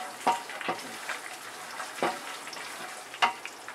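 Peanuts roasting in hot oil in a pan for Maharashtrian bhajake pohe chivda, a soft steady frying hiss broken by several sharp stirring scrapes at irregular intervals, close and fairly quiet with no voices.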